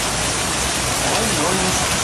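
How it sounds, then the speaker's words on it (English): A heavy downpour during a hail storm in Sonora, Mexico pours over flooded urban streets. It makes a loud, dense, unbroken roar of rain that fills the whole stretch without pause. "The sudden downpour transformed urban roads into rivers"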